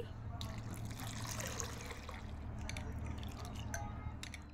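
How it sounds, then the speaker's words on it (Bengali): Sago pearls being rinsed in a bowl of water, with steady sloshing and trickling water and small drips running continuously throughout, close and moderately loud. "এবার আমি এই সাবুগুলোকে খুব ভালো করে জল পাল্টে পাল্টে 2-3 বার ধুয়ে নিচ্ছি।"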